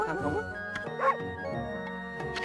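A dog barks and yips in the video game Okami, a few short barks and whimpering sounds over a bed of game music, moderately close and clear.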